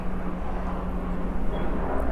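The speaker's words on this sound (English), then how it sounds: "Oh, there's a helicopter up ahead." Helicopter flying overhead above a container vegetable garden, a steady low droning rotor and engine hum at moderate distance, continuous for the whole moment with no talk.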